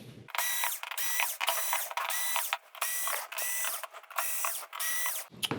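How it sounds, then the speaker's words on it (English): Screws are backed out of the power supply board of a Samsung PN59D6500DF plasma TV, giving a close, steady run of ratcheting, whirring bursts with short pauses between turns and no talking. "Now we just need to remove our screws, and we can pull this power supply up and away."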